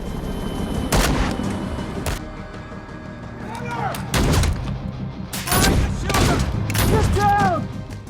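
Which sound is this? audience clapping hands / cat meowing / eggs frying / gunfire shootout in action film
gunfire shootout in action film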